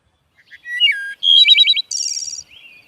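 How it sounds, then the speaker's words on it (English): Wood thrush song, a run of clear fluting whistled phrases with rapid trilled notes and a high buzzy ending, loud and close with no other sounds. "the most interesting of all are the songbirds like the wood thrush"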